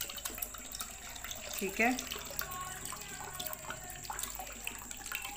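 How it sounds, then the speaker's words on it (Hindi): A glass of water poured into a cooking pot, a soft running splash under steady background noise, with a brief spoken word. "पहले हम लेंगे, एक बर्तन में डालेंगे एक गिलास पानी,"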